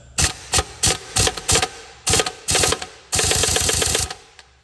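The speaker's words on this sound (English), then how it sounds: "I'm going to just use the impact gun on this lock nut as well." Impact gun zapping the flywheel lock nut on a 1998 Ferrari 355 F1 gearbox: several short, loud rattling bursts in quick succession, then one longer sustained buzz before it stops.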